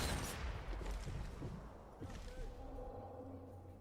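Enemy gunfire in a first-person shooter game, a dense burst of rapid shots at the start that thins into scattered cracks over a steady ambient background.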